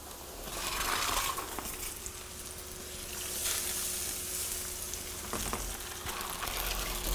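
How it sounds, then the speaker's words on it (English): Dry white wine deglazing a paella pan in a wood-fired pizza oven, a continuous close hissing sizzle with soft scraping and a few small clacks, fairly steady throughout. "we're going to be deglazing with a little bit of just dry white wine"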